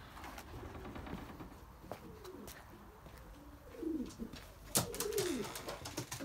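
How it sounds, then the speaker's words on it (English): Belgian racing pigeons coo repeatedly in a quiet loft, soft rolling calls overlapping, with a louder burst of cooing and a brief clatter near the end. "there are quite a lot of birds still in here"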